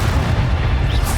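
A sustained, heavy rumbling blast from the explosive Expulso spell in Hogwarts Legacy, loud and dense with deep low-end boom filling the whole moment, no speech over it.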